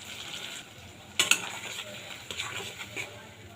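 A spoonful of ground mustard and poppy seed paste goes into a pan for oily koi fish curry and is stirred, a soft sizzle with one sharp metallic clink of the spoon against the pan, fairly quiet and close.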